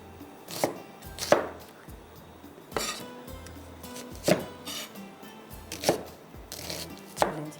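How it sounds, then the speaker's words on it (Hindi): A knife chops onion on a board in a home kitchen, about six separate sharp thuds spaced roughly a second apart, fairly close over quiet background. "थोड़ा सा इसको प्याज को आपने छोटा कर लेना"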